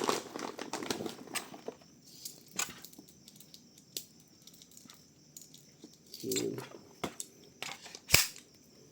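An orange KJW CZ Shadow 2 airsoft pistol fires, giving sharp, snappy cracks at irregular intervals, a quick cluster at first and then single shots, fairly quiet against a silent background.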